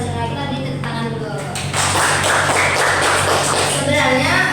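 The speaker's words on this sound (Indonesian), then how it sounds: "Kita beri tepuk tangan dulu." Applause in a classroom during a microteaching practice lesson: a sustained burst of many hands clapping, with a voice audible at the start and end.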